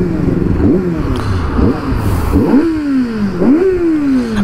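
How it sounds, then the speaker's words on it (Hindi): A Kawasaki ZX-6R sport motorcycle engine revs up and down several times, a high-pitched whine climbing and falling in repeated bursts, loud and close. "और एक बार सिक्स आर की हम ना आवाज भी सुन लेते हैं।"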